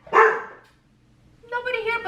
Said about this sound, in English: There's nobody here, so they bark for no reason sometimes.